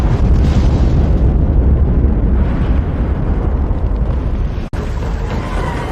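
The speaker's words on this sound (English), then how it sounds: "was hit by a catastrophic bomb explosion, igniting its ammunition magazine" A battleship's bomb explosion ignites its ammunition magazine in a sustained, loud rumbling roar that fills the whole stretch, with one brief cut partway through.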